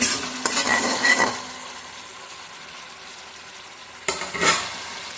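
Spice paste frying in a pan and being stirred: two loud bursts of scraping and sizzle at the start and near the end, with a quieter low simmer between them.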